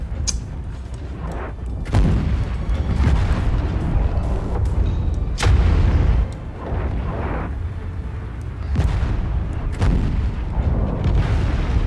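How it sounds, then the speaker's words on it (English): Explosions in the mech combat video game MechWarrior 5: Mercenaries, a series of heavy, booming blasts with a doubled burst, loud and close over continuous rumbling battle noise. "Double explosion too."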